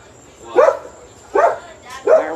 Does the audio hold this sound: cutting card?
no